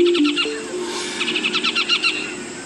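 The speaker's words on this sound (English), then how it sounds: "A yellow-tufted woodpecker shares the harpy's tree." A yellow-tufted woodpecker calls from a rainforest tree in Manu National Park, Peru, first with a few separate notes and then a quick, evenly spaced series of sharp, bright call notes, clear and fairly close.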